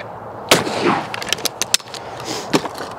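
Shotgun fired at clay targets with 24 gram Fiocchi TT1 cartridges, a gun over 40 years old: two loud, sharp reports about two seconds apart, with smaller cracks between them and outdoor background noise.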